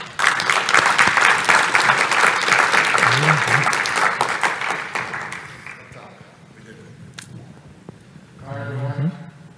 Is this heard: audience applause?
yes